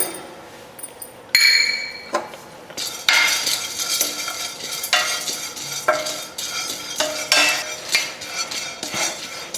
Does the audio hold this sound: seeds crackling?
yes